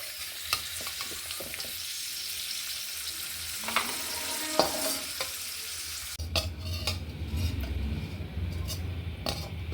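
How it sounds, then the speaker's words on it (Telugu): Coconut frying in ghee for rava laddu, a soft crackling sizzle with scattered scrapes and clicks of a spoon against the pan, close but fairly quiet; the texture shifts partway through as stirring continues. "ఈ నెయ్యిలోనే కొబ్బరి బాగా ఫ్రై చేసుకోవాలి"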